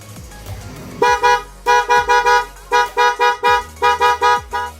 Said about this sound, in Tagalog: Dito ko nilagay yung isang busina.